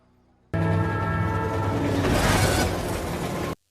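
A train from the Fast Five film scene rumbles steadily for about three seconds, a loud, dense, continuous rolling roar with sustained tonal hum and no voices.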